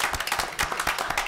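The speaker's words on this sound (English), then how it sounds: "I think that deserves a round of applause." At a city council meeting, the audience breaks into a short burst of applause, dense and rapid clapping at a moderate level.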